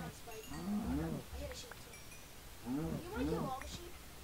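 Minecraft cows moo in two separate groupings of low, drawn-out calls, close by, while players chat over the scene in a video game.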